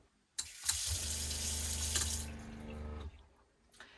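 Water gushes from a regular kitchen tap into a copper sink inside a self-converted Fiat Ducato camper van, driven by a strong 3-bar pump; a steady, loud close rush lasting about three seconds, then cut off.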